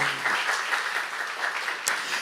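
A church congregation at a Saturday worship service breaks into steady applause, brisk even clapping throughout with one sharper clap near the end.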